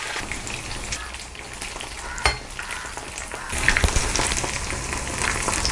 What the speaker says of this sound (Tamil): நம்ம ஹை ஃப்ளேம்லேயே வச்சுட்டு நல்லா ஃப்ரை பண்ணிக்கலாம்.